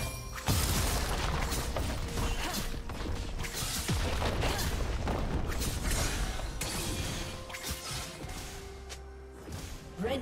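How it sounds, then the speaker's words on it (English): A turret being destroyed in League of Legends, with whooshing impacts, crashes and mechanical clatter from the game's fighting, loud and busy throughout and alone without voices. "Red team's turret has been destroyed."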